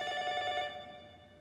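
A telephone bell ringing in the horror video game Ju-On: The Grudge on PC, a bright trilling ring that holds steady, then fades out, heard alone and clearly.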